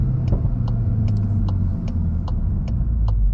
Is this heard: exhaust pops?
yes